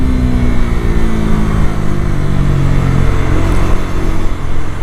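A 2025 Bajaj Dominar 400 motorcycle pulls hard in first gear, its engine drone loud and close with a rising pitch as it accelerates, and wind rush underneath. Nobody talks.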